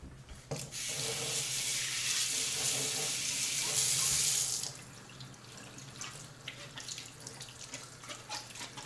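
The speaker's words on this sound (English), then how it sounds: "So what I'm gonna use is this can of Orange Pop, Fanta, but I'm also gonna wash the outside of it." Tap water runs over the outside of a Fanta orange soda can for about four seconds, a steady close splashing stream that then cuts off, leaving faint drips and handling sounds.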